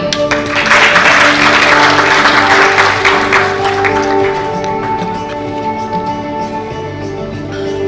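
Audience applause at an award function honouring chief guests, a dense burst of clapping that peaks early and then thins, with steady tonal music or hum running underneath throughout.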